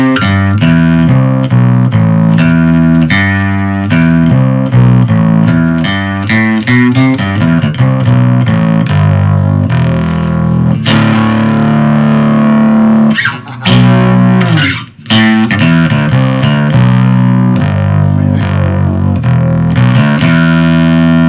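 Electric guitar run through a Tech 21 SansAmp Programmable with the drive maxed, giving a loud, saturated distorted tone with continuous chords and riffs and a brief break near the middle.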